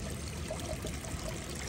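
Water splashing and trickling continuously, a close, steady wash of liquid noise lasting under two seconds with no voices.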